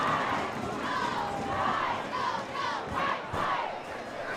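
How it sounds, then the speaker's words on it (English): A large crowd at a high-school football game between Romeo and Dakota roars and chants in repeated rising swells, loud and fairly close, with the cheers sustained throughout. "This crowd is all kinds of fired up."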